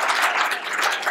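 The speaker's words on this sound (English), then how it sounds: "So give me a clap." A short burst of audience clapping at an activism talk, dense and steady across the whole moment with no voices standing out.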